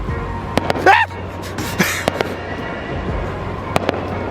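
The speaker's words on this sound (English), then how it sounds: "There were fireworks." Fireworks crackle and pop in scattered sharp bursts, with a whistling streak rising early, over a steady background and brief voices.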